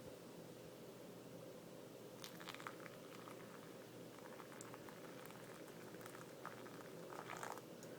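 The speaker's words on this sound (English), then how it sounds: "the first thing I'm going to do is just pour in the middle to soak the grounds" Water pours from a Hario kettle onto coffee grounds in a V60 dripper, a soft, continuous trickle and bubbling patter, faint and steady throughout.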